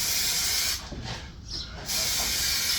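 A spray can lays textured paint onto a car bumper on a Passat B3 restoration, producing a close, loud hiss that eases off briefly in the middle before resuming.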